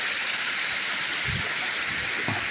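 A river in Hawaii flows with steady broadband water noise, continuous and close, with a few low thumps like footsteps on slippery rocks.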